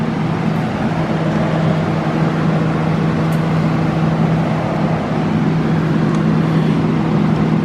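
Honda Civic engine with an intake manifold gasket leak idling steadily nearby with a continuous low drone, loud and even, with no clear surge and no talking.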